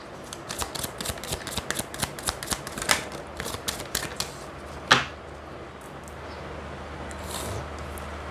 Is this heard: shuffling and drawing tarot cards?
yes